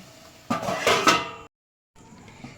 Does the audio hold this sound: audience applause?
no